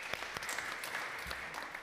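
An audience applauds students after their testimony at a city council education hearing, a brief burst of clapping that runs steadily through the moment with faint voices under it.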